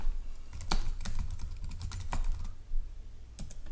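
Keys tapped on a Mac computer keyboard while entering a game server console command, a steady run of close, crisp clicks with a few sharper keystrokes standing out and no talking.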